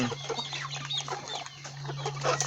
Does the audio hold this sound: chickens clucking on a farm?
yes